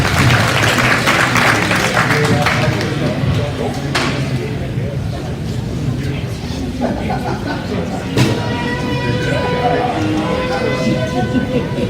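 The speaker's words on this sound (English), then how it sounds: "Let's give those young individuals a really good round of applause." Audience applause at a cattle show after a heifer class, a steady broad clapping that fills the whole stretch, loud and continuous with a murmur of voices and an announcer underneath.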